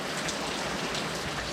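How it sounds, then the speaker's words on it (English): Heavy rain pours down at night in a dense, continuous hiss that stays loud and even throughout, with no talking. "It's raining cats and dogs."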